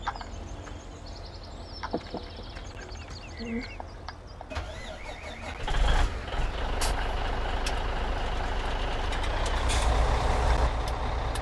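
Truck reversing beeps in the Farming Simulator 17 video game, a steady electronic tone repeating over engine rumble and a low drone, which grows louder partway through as heavy machinery noise builds; a voice talks briefly in the background.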